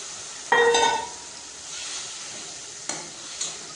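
A ground spice paste drops into hot oil with frying masala, bursting into a loud close sizzle that quickly settles to a softer steady hiss, followed by a couple of sharp stirring scrapes.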